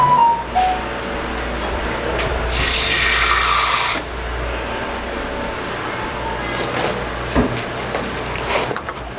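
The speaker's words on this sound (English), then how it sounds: "I get some water here." Water from a tap pours into roti dough, a steady hissing stream of a few seconds amid kitchen rubbing and handling sounds, with brief talk.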